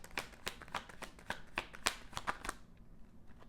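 Tarot cards being shuffled and drawn, a quick series of crisp riffling snaps and flicks close by and fairly soft, ending abruptly in quiet.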